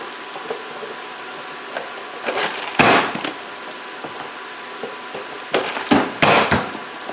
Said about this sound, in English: I've got my celery here. And I'm just going to just chunk those.